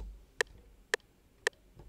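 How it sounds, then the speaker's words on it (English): FL Studio 21 metronome set to 113 BPM, giving three crisp, evenly spaced electronic ticks with a steady pulse over a quiet background. "First, I'm gonna set my tempo to 113 and also activate the metronome."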